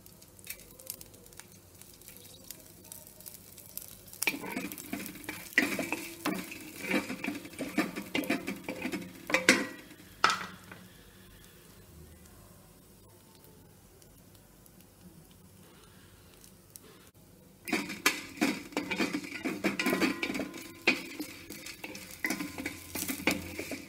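Fenugreek and cumin seeds roasting in ghee for Tirumala puliyogare, with bursts of scratchy stirring and crackling separated by a quieter stretch of faint sizzle, close by with no voices.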